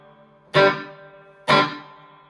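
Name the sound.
electric guitar open strumming, spring reverb, Boss ME-90, Roland Jazz Chorus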